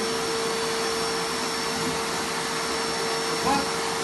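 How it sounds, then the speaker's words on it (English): A shop vacuum runs steadily, sucking up poplar seed fluff, with a constant motor whine and airy rush, plus a brief bump of handling noise near the end. "I start up the vacuum cleaner"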